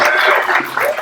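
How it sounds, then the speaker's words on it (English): A crowd at a Droid Builders convention event gives a short burst of steady applause, with clapping heard at moderate distance. "she definitely deserves a round of applause"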